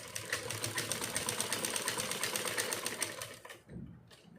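A sewing machine runs fast along the straight edge of a dress base, its needle chattering in an even rapid rhythm for about three seconds before stopping, followed by a softer handling sound.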